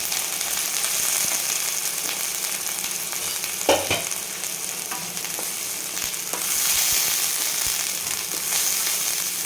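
Roasted masala with a little turmeric sautéing in hot oil in a pan, a continuous close sizzle with occasional scraping stirs and brief clatters of the spoon.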